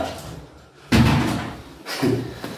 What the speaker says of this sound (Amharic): በር ተንኳክቶ ነው።